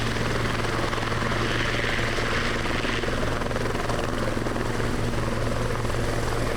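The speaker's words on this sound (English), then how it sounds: "I'm actually on the helicopter." A helicopter lifting off on Vancouver Island drones with a loud, constant rotor and engine roar, heard from inside the cabin, steady throughout.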